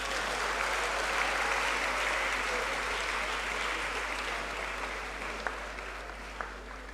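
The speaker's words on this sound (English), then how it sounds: "Let's give our distinguished professor another round of applause." Sustained applause from a lecture audience for a professor after an inaugural lecture, a steady, dense wash of many hands clapping at even loudness for the full length, with no voices over it.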